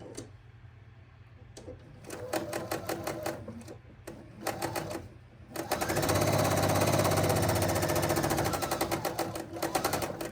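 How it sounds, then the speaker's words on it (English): A sewing machine stitches a quarter-inch quilt seam, its needle chattering in several bursts that stop and restart, then one long steady run near and loud, with no talk. "we're going to just sew the 1/4 inch seam"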